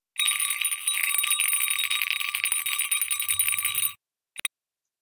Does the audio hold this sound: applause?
no